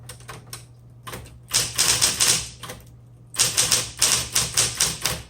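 Typing on a 1960s Smith Corona Electra 120 electric typewriter, heard up close as two dense bursts of rapid, crisp key strikes separated by a brief pause.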